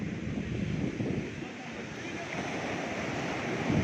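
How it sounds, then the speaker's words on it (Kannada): Ocean waves surge and break continuously on Honnavara beach, a broad steady roar of surf with wind buffeting the microphone throughout. "ನೋಡಿ ಹೆಂಗೆ ಬರ್ತಾ ಇದೆ ಅಲೆಗಳು"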